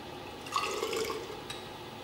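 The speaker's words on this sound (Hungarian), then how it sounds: "Erre egy kis vizet öntök." Small amount of water poured into a test tube holding potassium nitrate during a chemistry dissolving demonstration, a brief soft trickle and splash lasting under a second, with a faint drip afterwards.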